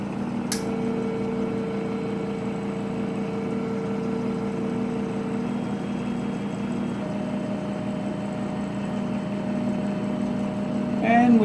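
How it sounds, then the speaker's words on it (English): An Edwards Spectron 600D leak detector pumps down, a steady mechanical hum with a constant whine and faint tonal drone, close and even, opening with a sharp click as it starts. "And now that we're going to pump down by hitting the start button."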